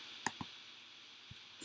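Soft computer mouse clicks in a quiet room, about four short, crisp taps spaced irregularly, with near-silence between them.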